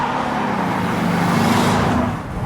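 A Maserati Ghibli diesel sports saloon engine hums steadily at close range, a low droning note that swells slightly before easing off.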